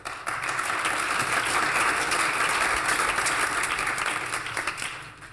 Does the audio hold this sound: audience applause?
yes